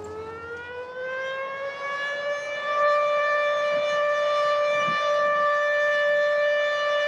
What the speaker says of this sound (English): Air raid sirens were only removed from British towns 20 years ago.